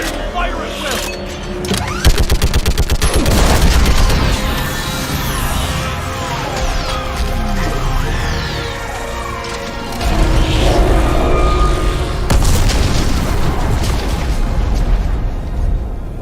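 Gunfire and heavy orbital strike explosions in Mass Effect 3 fill the scene with loud, continuous booms and blasts, rumbling under battle chatter and dense combat noise throughout.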